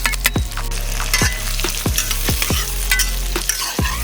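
Sliced onions and green chilies sizzle in hot oil with whole garam masala for an outdoor mutton and black lentil dal, steady frying hiss broken by repeated sharp stirring scrapes roughly every half second, close and loud with no talking.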